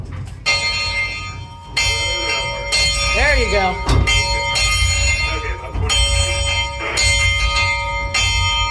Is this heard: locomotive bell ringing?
yes